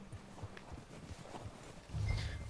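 Horse hooves clip-clop in Red Dead Redemption 2, a steady walking rhythm of soft thuds at moderate distance, ending in a louder low rumble of movement.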